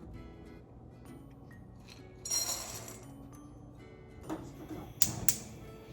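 A glass bowl set over a double boiler for melting chocolate gives a few sharp clinks and scrapes, a brief burst early on and two bright taps near the end, against a quiet kitchen background.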